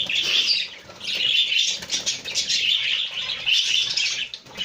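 Cockatiels in a cage chirp and tweet almost continuously, close and fairly loud, with bright repeated calls and no talking.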